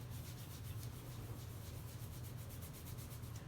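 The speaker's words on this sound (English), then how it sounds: "Rub your scalp, but do not run your hands through the curls." Hands rubbing a scalp beneath curly hair make a steady, close, soft scratchy friction noise that continues without pause, with no voices.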